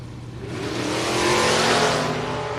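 Dragsters launching down a drag strip roar, loud engines swelling and revving over a couple of seconds with a broad, harsh rumble and no talk.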